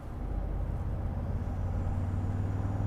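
2023 Toyota Sequoia Capstone with a hybrid twin-turbo V6 and 10-speed automatic, floored in Sport S Plus, giving a steady low engine drone that holds loud and even without a downshift, with no talk.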